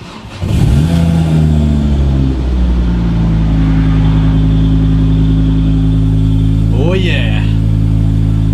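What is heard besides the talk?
Ford Transit Connect with Focus ST 2.5 turbo engine revving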